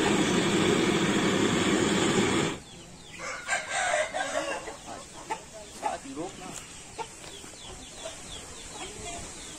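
A caged rooster being treated for mites and lice, with loud clucking and crowing-like fowl calls at first, then someone talking over scattered bird sounds.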